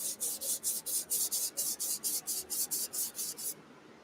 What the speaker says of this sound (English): Sounds like sandpaper